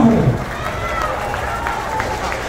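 An audience at a live salsa performance applauds the bass player, with a loud burst at the start settling into steady clapping and crowd noise, while a voice carries on over it.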